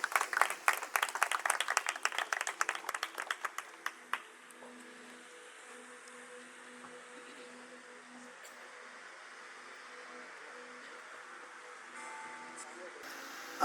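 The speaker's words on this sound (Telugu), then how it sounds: "వారు వస్తూ ఉండగా చప్పట్లు కొట్టి అభినందిద్దాం" Audience at a teen birthday celebration clapping in welcome, a burst of brisk applause for about four seconds that stops abruptly, leaving quiet room tone and faint murmurs.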